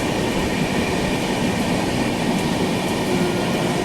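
The Rajdhani Express from Bilaspur to New Delhi, heard from inside an AC 3-tier coach as it overtakes the Mahakaushal Express near Palwal, producing a steady, loud rumble of wheels and rails with faint rhythmic clatter.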